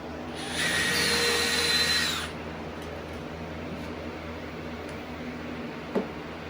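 A power drill driving screws into the fourth wall of a koi grow-on pond, one loud whirring burst of about two seconds near the start, then quiet with a faint click near the end.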